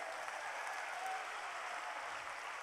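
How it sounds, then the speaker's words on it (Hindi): A large audience at a gathering of saints applauds with raised hands, a dense, steady roar of clapping that holds at an even loudness throughout with no voices on top. "हाथ ऊपर करके ताली बजाइए।"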